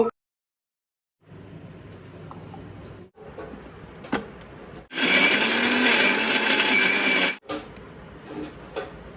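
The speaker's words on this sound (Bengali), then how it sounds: "এই ভাজা পেঁয়াজ মাছের মাথা একটা মিক্সি জারে তুলে একটু ঘুরিয়ে নেব" A kitchen mixer grinder whirs as it blends fried hilsa fish head with fried onion into a paste, running in loud bursts with a brief stop and a louder, harsher stretch in the middle.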